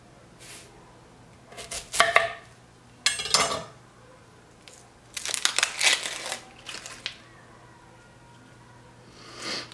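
Short bursts of a handmade Kiritsuke Honyaki knife of 1095 steel slicing through an onion, crisp chopping strokes in irregular clusters with pauses between, close and moderately loud, no talking.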